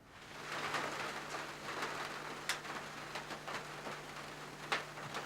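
Steady rain falls during the rainy season in Tanzania, a constant hiss with occasional sharper drips and taps standing out, moderately loud and continuous with no voices.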